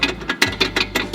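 A loose rear drop link bar on an AMG GT build knocks against the car in a quick series of light, sharp taps, about six close, evenly spaced knocks.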